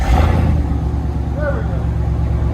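A Ram Power Wagon with a 6.4L HEMI V8 and a muffler and resonator delete rumbles loudly and deeply close by, with a brief rev at the start that settles into a heavy idle burble.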